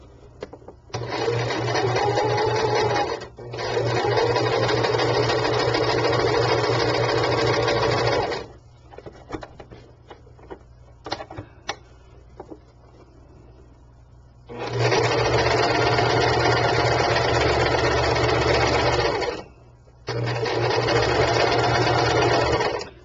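A sewing machine stitches a handmade sachet bag in long loud bursts of rapid motor hum, separated by a quieter gap of handling clicks and rustles before two more runs.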